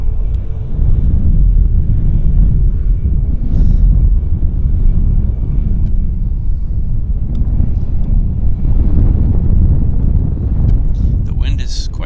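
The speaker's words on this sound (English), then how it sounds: "The wind is quite strong" Strong wind buffets the microphone at Vancouver Airport, a loud, continuous low rumble running the whole time, with indistinct voices murmuring beneath it.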